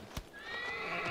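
Horse in the Shadow of the Colossus video game, a hoof knock followed by a loud, drawn-out whinny with a rising and wavering pitch, close and clear without talk.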